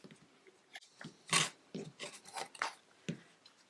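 Excess quilting fabric is trimmed along a ruler for a log cabin quilt block, giving quiet, close scraping and crunching cuts in short irregular strokes, with soft handling noises between them.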